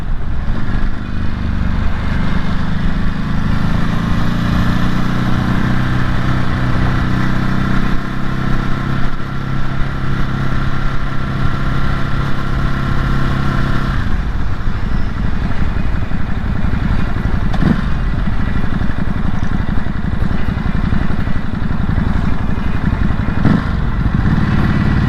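Motorcycle with a stock exhaust riding through Houston traffic, a close, steady mid-pitched engine drone with a shift in tone partway through, plus occasional clatter and wind noise.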